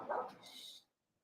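Dogs bark in a short, fairly faint burst of yelps that fades out to near silence within a second.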